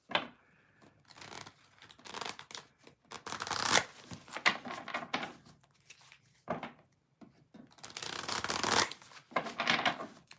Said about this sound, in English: I'm going to go ahead and shuffle up me cards here.